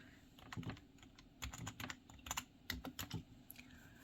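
Computer keyboard typing in short bursts of clicking keystrokes, close by and fairly quiet, with brief pauses between runs of keys and no talking.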